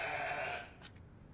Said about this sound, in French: Je rêve ou ce sont des moutons?